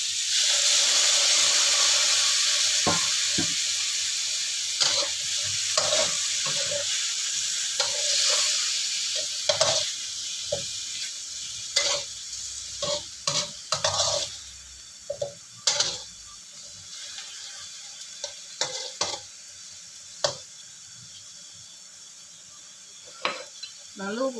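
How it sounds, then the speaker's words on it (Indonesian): Broth poured into a pan of cooked chicken for ayam salim hisses and sizzles loudly at first, then settles under repeated close scraping stirs and clinks of the spoon. "Ini kuahnya aku masukkan juga ya."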